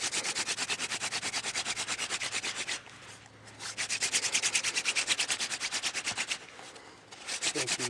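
A wooden hand-drill spindle grinds hard against a wooden board while making a friction fire. The rubbing is loud, close and rhythmic, with quick back-and-forth strokes and two short pauses.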